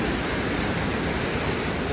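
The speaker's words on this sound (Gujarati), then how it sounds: "આવડો વોટરફોલ છે જ્યાં આવવાનું હતું" A waterfall in snowy Manali rushes as a steady, loud broadband roar of falling water, close by and unbroken, with no voices.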